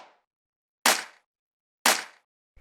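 A second clap drum sample from a layered deep house clap, hit twice at a steady one-second spacing, each a crisp, full-bodied crack fading quickly into silence.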